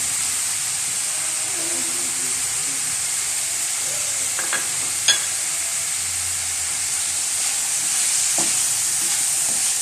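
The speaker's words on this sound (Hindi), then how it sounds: "सारे मसाले हमने शामिल कर दिए हैं, इसको अच्छे से फ्राई कर लेंगे" Cumin, salt, turmeric and coriander spices frying in a pan for potato tikki, a steady close sizzle and hiss with occasional clinks of stirring throughout, no talking.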